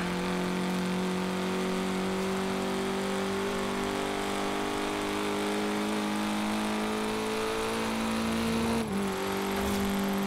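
Car engine in the Forza Horizon 4 driving game on a winter map, a steady mid-pitched drone with rising revs that dips briefly near the end as if braking, then picks up again, no talk.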